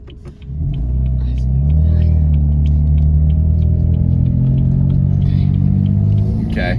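Steady close engine rumble from a BMW M4 with a dual clutch transmission, a droning cabin hum that holds level for several seconds with faint shaky variation and no talk over it.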